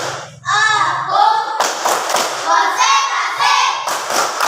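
Children in a classroom performing a concentration clapping routine, a steady run of loud, close hand claps and thumps mixed with children's chanting voices.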